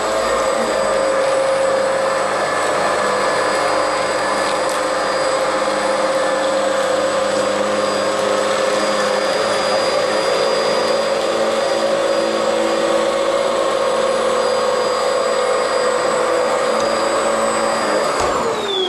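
A Bissell Powerglide Pet upright vacuum cleaner running over carpet, a loud, steady motor whine with a constant drone that holds unchanged for the whole stretch, then cuts out sharply near the end.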